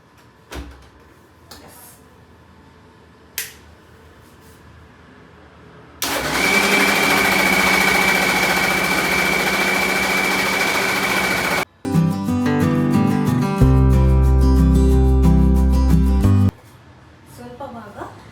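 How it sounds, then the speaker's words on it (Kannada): A mixer grinder blending mango with jaggery runs as a loud, steady whir for about five seconds, stops briefly, then restarts with a deeper, heavier droning pulse before cutting off. "ಇವಾಗ ಇದನ್ನು ಗ್ರೈಂಡ್ ಮಾಡ್ಕೊಳ್ಳೋಣ."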